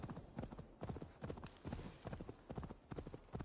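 Horse hooves clip-clopping at a steady trot in Assassin's Creed Valhalla, the regular rhythmic thuds sitting close and clear with a faint game ambience behind them.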